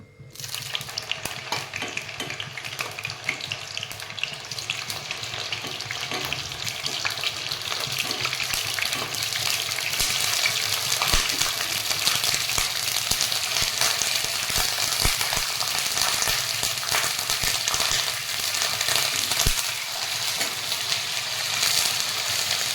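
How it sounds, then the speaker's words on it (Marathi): Paneer fries in hot oil in a pan, a sizzle that swells from quieter to a loud, steady crackle after a few seconds and then holds, with occasional stirring clicks close by. "बघा, तेल गरम होत आहे। आता पनीर टाकू आपण याच्यात।"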